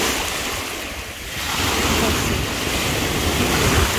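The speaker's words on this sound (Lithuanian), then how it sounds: "Bangos tai didelė." Large sea waves wash over a beach of small pebbles at Kemer in Turkey, a loud, continuous roar of surf up close with wind buffeting the microphone.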